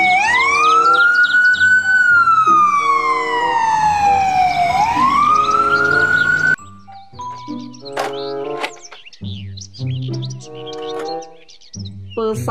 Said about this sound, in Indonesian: Mobil ambulans.